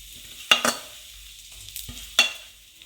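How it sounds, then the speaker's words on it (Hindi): Grated coconut toasting in ghee in a pan, with a low sizzle beneath a few sharp scrapes and clatters of a spoon stirring, about three distinct stirring strokes. "अब हम इसमें फिर से 1 टेबल स्पून घी डालेंगे और इसमें डाल देंगे हम ग्रेटेड कोकोनट"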